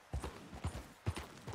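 Horse hooves clop on the ground in the video game Red Dead Redemption 2, four distinct rhythmic footfall clusters at a trotting pace, close and clear with no voices.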